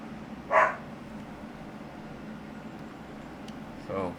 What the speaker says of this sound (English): more barking. I'm sorry for that, but that is what happens when you have pets